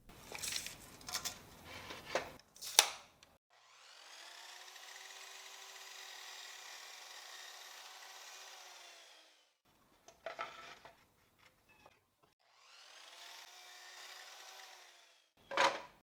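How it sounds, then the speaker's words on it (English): Miter saw cutting cedar, pine and eucalyptus boards into 42 cm lengths: two long, steady whining cuts, each framed by sharp knocks and clatter of wood being handled nearby. "Here on the miter saw, from this piece, I'm going to cut 2 pieces each measuring 42 centimeters in length."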